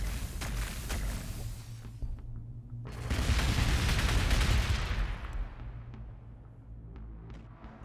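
Heavy cannon fire in the Space Marines video game rumbles in a low booming barrage that swells into a loud blast-laden roar midway, then fades back to a distant rolling rumble.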